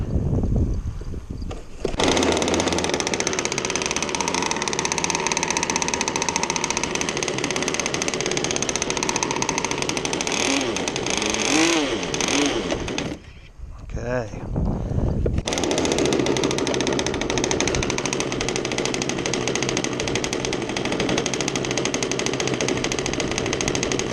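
A freshly built small engine on its first start runs rich, roaring close and loud with a rough buzzing drone, briefly cutting out and sputtering before catching again and settling into a steady idle, with no talk.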